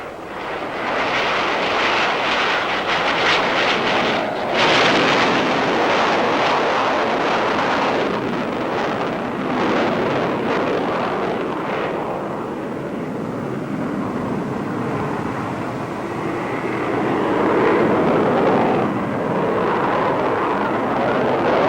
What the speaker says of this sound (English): preparation was made for the first flight of the XF-8U-1